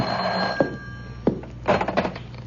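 A telephone bell rings in a CBS radio mystery drama, with a few clear bursts of ringing spaced across a couple of seconds, close and fairly loud, with no talk over it.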